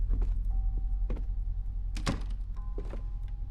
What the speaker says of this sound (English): Let's go in this door.